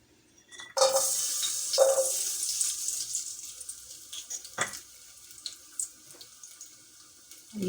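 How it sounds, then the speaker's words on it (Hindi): Garlic hits hot oil in a pan, bursting into a loud close hiss that slowly fades into lighter crackling and sporadic pops while cooking aloo methi. "ऑयल डाल लें, पौना कप लहसुन डाल देते हैं।"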